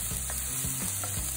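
Big onions frying in a pan, a brief steady sizzle with a few soft stirring scrapes, close and even, with no speech.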